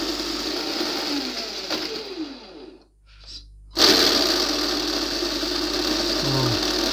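Tamiya Knight Hauler RC truck runs with a steady electric engine-sound drone that cuts out briefly and returns as gears are shifted, with a quiet voice talking in French.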